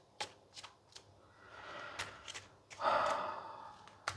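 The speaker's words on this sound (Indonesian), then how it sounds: "So, aku shuffle dulu kartunya." Tarot cards are shuffled softly and close by, with light riffling flicks and slides scattered at an irregular rhythm, quiet throughout.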